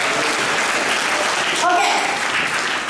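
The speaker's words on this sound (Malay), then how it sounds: "Tepukan kepada mereka." An audience applauds its mentors at a Malaysian motivational talk on becoming a millionaire, a loud, dense, steady clapping that fills the whole stretch with a faint voice briefly audible within it.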